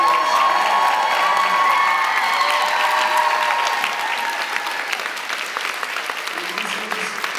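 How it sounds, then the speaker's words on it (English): Fan convention panel audience in Vancouver breaking into loud applause with cheers and whoops for a guest, the clapping staying dense and gradually easing over several seconds. "Can everybody please give him a round of applause?"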